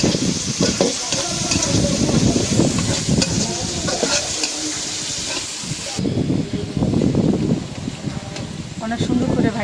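Onions, garlic and dried red chilies fry in a pan with oil, giving a continuous loud sizzle broken by scraping and stirring clatter from the cooking utensil, close to the listener.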